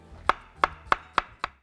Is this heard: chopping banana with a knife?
yes